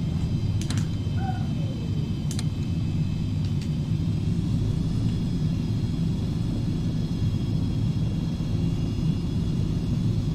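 The Beechcraft Premier 1A jet in X-Plane 11 gives a steady, continuous low rumble with an even engine drone and no speech, as on a rolling takeoff.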